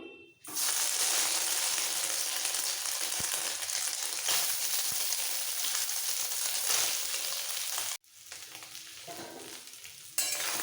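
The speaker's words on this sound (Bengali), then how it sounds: "সবার প্রথমে সোয়াবিনগুলি ভেজে নেব দিয়ে দিচ্ছি" Soybean chunks frying in a little white oil give a loud, steady sizzle with stirring scrapes, then an abrupt drop near the end before the frying noise returns more quietly.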